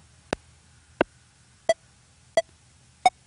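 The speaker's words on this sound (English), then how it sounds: "There you go, a nice beep." Five short metronome clicks from an electronic drum kit sound at an even pace, spaced under a second apart, the later ones carrying a brief pitched beep, otherwise quiet.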